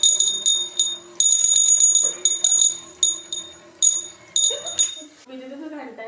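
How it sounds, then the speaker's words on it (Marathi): An electric bell built as a school science project rings in short repeated bursts, bright and fairly close, with a brief pause between rings and a faint voice murmuring underneath toward the end. "विद्युत घंटा ही आपल्या दैनंदिन जीवनातील एक महत्त्वाचं उपकरण आहे"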